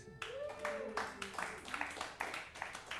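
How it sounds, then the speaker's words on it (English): Thin, scattered clapping from a small comedy-club audience, a handful of separate claps spread unevenly under a comedian's talk. "Not enough people clapping"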